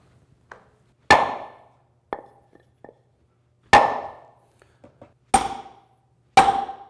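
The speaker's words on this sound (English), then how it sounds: "So your hammer bounced back, and you notice that audible difference in sound" A hammer taps a trailer wheel bearing race into place, about five sharp metallic strikes at irregular intervals, each with a short ring and small bounce taps between, close and clear with no talk.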